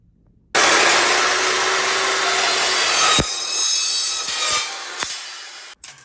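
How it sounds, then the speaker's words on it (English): Power saw cutting a 24-inch tube down to 18.5 inches for a BBQ island frame, a loud continuous rasping cut that sustains for several seconds, then winds down with a few clattering knocks. "Now we'll go ahead and take our 24-inch tube and go cut it down to the"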